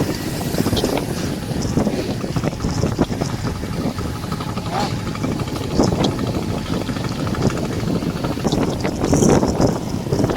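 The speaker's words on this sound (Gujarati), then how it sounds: "આ બાઇક લઈ લીધી છે અને હવે આપણે બાબરા તરફ નીકળશું ધીરે ધીરે." A motorbike on a road ride, its engine droning steadily beneath heavy wind rush across the microphone, continuous and fairly loud with no talk.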